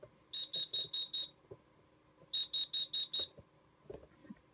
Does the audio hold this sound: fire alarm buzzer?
yes